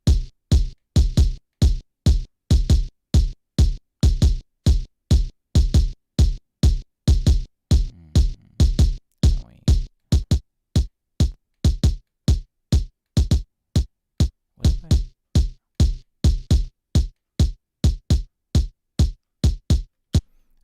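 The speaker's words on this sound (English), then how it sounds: "it's a really punchy kick. It doesn't have a lot in the way of low end" A punchy kick drum sample with little low end loops in a studio, a steady stream of sharp, evenly spaced loud thumps playing alone.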